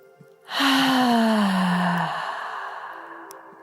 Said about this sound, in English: Take a deep and slow breath.